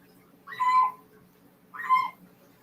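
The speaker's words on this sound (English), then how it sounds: "you may hear Christian's bird there" A pet bird gives two separate calls about a second apart, each a short hooting, whistled note, fairly close against a quiet room with a low steady hum.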